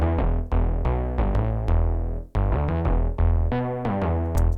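A synth bass from a VST plugin, run through compressor, delay, distortion and reverb, plays a punchy, rhythmic line of loud, bright, distorted plucked notes with sharp attacks and short gaps, alone and close.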